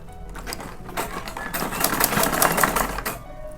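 A sewing machine runs steadily, topstitching over the cord piping on a sleeveless princess-cut blouse, with a continuous close whirring and needle rattle throughout.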